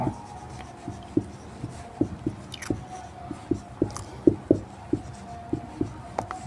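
Numbers being written on a board during a maths lesson: a run of short, evenly spaced taps and scratchy strokes, close and fairly clear, with no talking.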